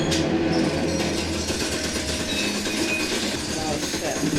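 A train rolls along in a video game, a continuous dense rumble and rattle of wheels and cars that holds steady and loud throughout, with some voice-like sound mixed in.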